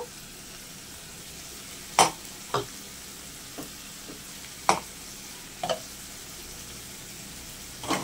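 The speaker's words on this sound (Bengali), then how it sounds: "এটাকে খুব ভালো করে এবার কষিয়ে নিতে হবে।" Crab curry being sautéed with ground spice paste in a pan, a soft continuous sizzle broken by a handful of sharp scraping stirs of a spatula, close and quiet.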